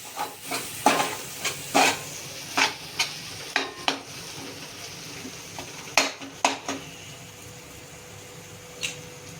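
A pav bhaji mixture with masala gets stirred in a pan, the spoon knocking and scraping against the metal in a loose series of sharp clacks over a low, steady sizzle, close and without any talking.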